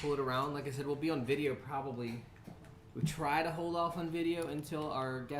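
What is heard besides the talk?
No distinct noise like a dog, phone or traffic.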